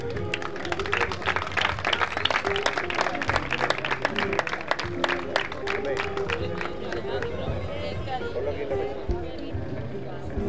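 Spectators at a national Doma Vaquera horse riding competition in Almonte break into sustained applause, a dense crackle of many hands clapping from a moderate distance, with crowd murmur and a voice underneath.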